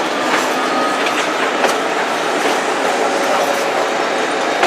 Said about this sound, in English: Yeah, that's an ex-Santa Fe diesel.